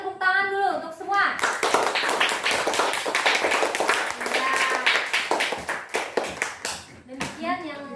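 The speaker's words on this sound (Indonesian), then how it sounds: "Kita tepuk tangan dulu untuk semua." A classroom of children claps hands together in a lively burst of quick, uneven clapping lasting several seconds, with a teacher's voice speaking briefly before and after.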